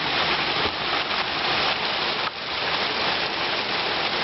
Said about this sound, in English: It's raining outside, so I can't go out